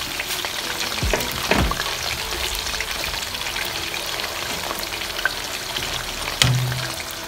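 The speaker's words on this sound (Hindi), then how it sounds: "तो अब आ गया आलू फ्राई करने का टाइम, तो अब मैं इसको फ्राई करने लगाऊँ" Potato pieces frying in hot oil in a pan for biryani, a soft steady sizzle with a few faint clinks and stirring sounds, no talking.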